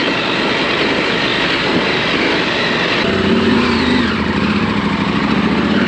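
An adventure motorcycle rides a mountain road in British Columbia, its engine droning steadily and loudly under rushing wind, with a gear change and a shift in tone partway through.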